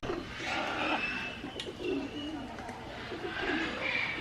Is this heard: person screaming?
no